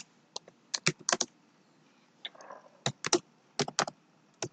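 Clattering keystrokes on a computer keyboard while entering a database table command, coming in quick irregular bursts of sharp clicks with short pauses between, close and fairly quiet.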